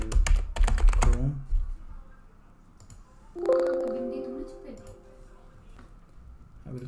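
A file name typed on a computer keyboard, a rapid burst of close key clicks at the start, followed by quieter background with a short electronic tone in the middle.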